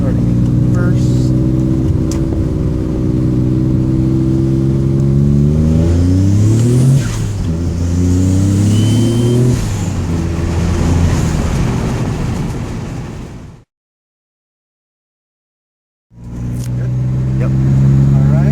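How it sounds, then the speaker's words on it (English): Engine of a 1996 Dodge Stealth R/T twin turbo climbing through the gears from first with a tuned setup, loud close revving that rises in pitch, drops at each shift and rises again, then briefly cuts out before returning; voices talk over it. "I'm going to roll through the gears a little here so you can see here how it"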